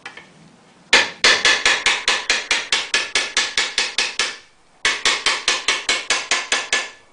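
Hammer blows shaping a sheet metal fender panel near the wheel opening, a loud, rapid run of about a dozen evenly spaced metallic strikes, a brief pause, then another steady series, close and alone.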